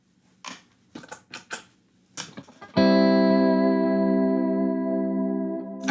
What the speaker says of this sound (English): Instead of chorus, I think I'll use vibrato.